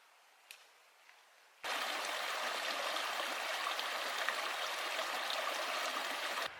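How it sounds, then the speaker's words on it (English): Mountain stream cascade near Toxaway Lake in the Sawtooth Wilderness, a steady rushing wash of water that cuts in suddenly after quiet and stays constant and close. "Another lovely cascade."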